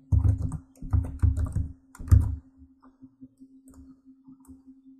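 Fingers tap out a short phrase on a computer keyboard while entering button text in Adobe Flash: a few quick bursts of close, clacky keystrokes, then sparse lighter taps before it trails off.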